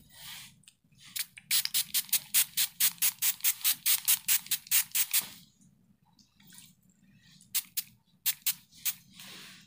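A Hatomugi skin conditioner spray bottle pumped in rapid bursts: a run of about twenty quick crisp sprays, a pause, then another short series of spritzes, close and alone.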